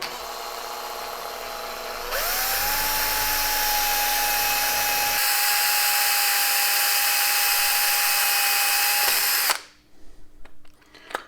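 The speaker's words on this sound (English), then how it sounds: "we're going to drill into that pulp for our scepter. You drill into the bamboo." A power drill bores into the pulpy node of a bamboo stalk, motor rising in pitch at the start and holding a steady close whine for several seconds before cutting off, followed by a few faint knocks.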